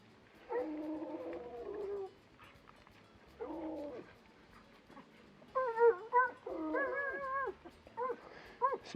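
Quarter-Airedale puppy at an outdoor campsite with a canvas tent, giving a run of high, yelping barks and drawn-out howls in separate bursts, close and fairly loud, with no talking.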